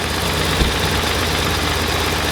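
A BMW R1100RT motorcycle engine running steadily during a throttle body sync, a loud continuous low rumbling drone with a slight bump near the start and no talk.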